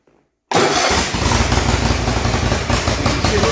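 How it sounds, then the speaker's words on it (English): A small engine with its choke on fires up after a brief silence and settles into a loud, steady, slightly rough run, close by and alone. "So I'm going to choke it here. And we'll get it started."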